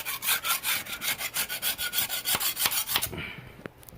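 Steady rhythmic scraping as gasket residue is cleared off the deck surface of a Chevy 350 engine in a 1999 Tahoe, about a dozen close, even back-and-forth strokes with a few sharper taps near the end.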